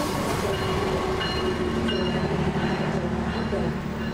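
A train departing Gambir Station in Indonesia rumbles steadily with a low mechanical drone and faint rail hum, close by, while a voice murmurs in the background.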